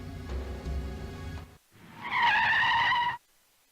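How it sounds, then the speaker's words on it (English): A van in the video game Steins;Gate 0 rolls up with a low engine rumble, then brakes hard with a loud, sustained tire screech that cuts off abruptly. "a black van pulled up and braked hard at one end of the alley, blocking us in"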